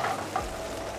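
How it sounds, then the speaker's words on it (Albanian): Shrimp frying in a pan for a beetroot cream risotto give a steady, close, hissing sizzle throughout, with no voices. "Duhem të skuqen karkalecat."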